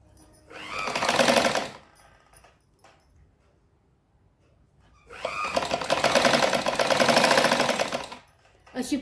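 Electric sewing machine stitching a saree border onto a blouse piece, running in two loud, close bursts of rapid whirring stitches separated by a quiet pause.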